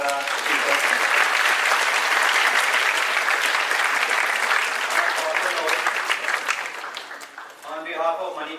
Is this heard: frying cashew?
no